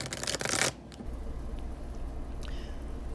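A tarot deck shuffled fast on a lap, a loud close flurry of riffling cards for under a second, then quiet room noise with faint rustles.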